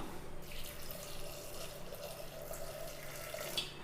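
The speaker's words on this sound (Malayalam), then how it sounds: "ഇത് വേകാൻ ആവശ്യത്തിനുള്ള വെള്ളം ഒഴിക്കാം." Water streams steadily into a pot of raw green banana curry for several seconds, a continuous splashing flow with no voices.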